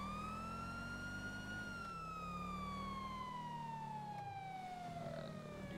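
A police siren in GTA 5 wails steadily with a slow falling pitch sweep, loud and continuous over a low engine rumble.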